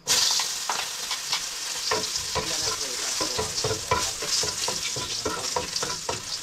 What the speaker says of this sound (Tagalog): Mainit na yung kawali. Igisa ka ng bawang.